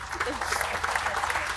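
At an awards event, an audience briefly applauds the sponsors, a faint, steady patter of clapping with a speaker's voice running underneath.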